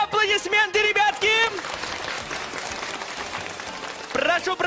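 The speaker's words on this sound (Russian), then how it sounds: "Прошу под бурные аплодисменты, ребятки!" A crowd breaks into applause at a televised children's event, the clapping swelling in the middle and holding steady while a voice speaks over it at the start and end.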